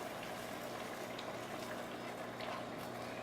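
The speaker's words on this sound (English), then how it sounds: "Turn it down, let it simmer." Butter sauce simmers in a pan for chicken scampi, a constant close bubbling and crackling with small pops and no talk.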